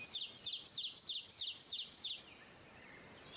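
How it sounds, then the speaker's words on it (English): Birdsong played from a music playlist: a bird repeats a bright, rhythmic chirping phrase about ten times in quick succession, then gives a single thin call, soft and set against faint background hiss. "What is up with the birds?"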